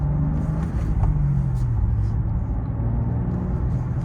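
Engine and road noise from a 2024 BMW M2 with a manual gearbox as it drives on a snowy road and breaks traction, heard as a steady low rumble with a brief shift in pitch, no talk over it.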